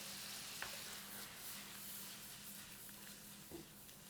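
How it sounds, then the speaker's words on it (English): Seasoned vegetables sautéing in a pan give a steady soft sizzle and hiss throughout, with a couple of faint utensil clicks and a low hum beneath. "We'll let this sit here and saute for another 2 to 3 minutes"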